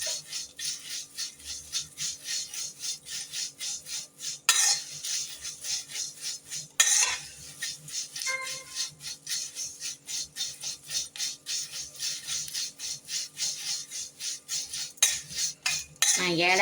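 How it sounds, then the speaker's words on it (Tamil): Dried avarampoo herbal tea powder is stirred and scraped in a pan while it roasts, giving a steady run of close, repetitive metallic scraping strokes with a couple of brief pauses and no talk. "இந்த பொடி நல்லா காய வச்சு நம்ம இப்படி வறுத்துக்கலாம்."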